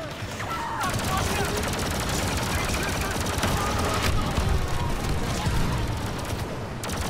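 Sustained rapid blaster fire in Star Wars Battlefront II, a dense, loud crackling stream with a few sharper shots, alongside battle noise and a voice in the background.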